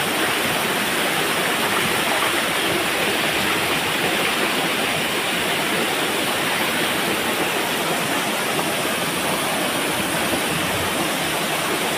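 Pinipisakan Falls in San Jorge, Samar pours in a steady, dense roar of rushing water that stays loud and unbroken throughout, with no voices over it.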